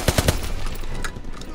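Close, loud bursts of automatic gunfire in the World War II shooter Call of Duty WW2, with three sharp shots up front and then a steady rattle of fire and echo.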